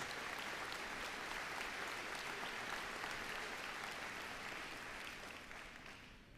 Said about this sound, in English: Let's once again give them a round of applause for their dedication and their commitment to U.S.